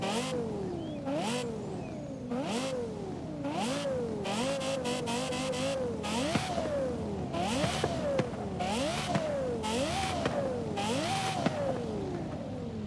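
Car engine in Forza Horizon 5 revving hard through repeated climbing sweeps, each rise cut off by a quick drop at the shift, a steady rhythmic run of about nine pulls, loud and close with no voices.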